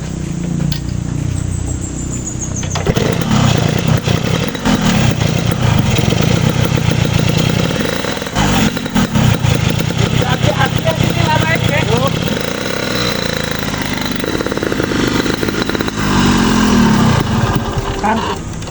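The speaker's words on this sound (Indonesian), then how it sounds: "Kang, itu motor si Bubal Kemet lin" A motorcycle engine idles close by in a steady, continuous rumble that swells and dips now and then, running throughout with people talking over it.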